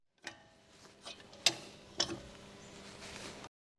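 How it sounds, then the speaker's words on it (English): Breaker bar fitted with a 19mm deep impact socket cracking loose front wheel lug nuts on a Honda Civic, giving a few sharp metallic clicks and creaks over about three seconds, close and fairly quiet. "Use the 19mm deep impact socket with the breaker bar extension to loosen the front wheel lug nuts."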